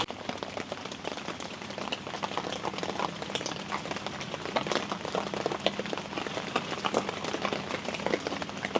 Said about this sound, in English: It's raining pretty good out here.